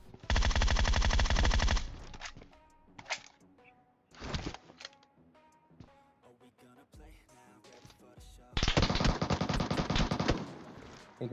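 Automatic MK14 and auto rifle fire in the PUBG Mobile battle royale game, with two long loud sustained bursts near the start and end and shorter bursts and scattered shots in between.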